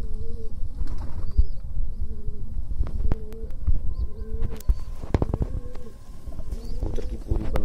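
Pigeons coo in low, repeated throaty calls close by, mixed with occasional clicks and fluttering knocks.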